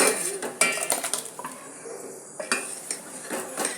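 A spoon scrapes and clinks against a pot while a ground paste mixture is stirred, made as the base for a Tamil buttermilk curry, with irregular, close knocks and scraping strokes and no talk.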